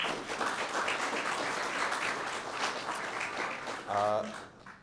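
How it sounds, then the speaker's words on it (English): A graduation audience in a hall claps, a moderate, steady patter of many hands heard from a distance, with a voice briefly breaking through near the end as the applause tapers off. "Round of applause, please."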